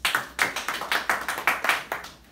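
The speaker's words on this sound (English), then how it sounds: "Round of applause, please." Small-group applause during a facilitation training session, a steady run of hand claps about five per second, fairly close and clear, tapering off at the end with no talking over it.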